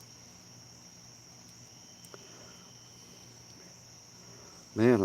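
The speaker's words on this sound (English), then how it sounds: "You can hear the crickets, Steve?" Steady high-pitched cricket chirring runs through the whole stretch at night by a campfire, faint and continuous, with a low murmur beneath and a brief louder burst of noise right at the end.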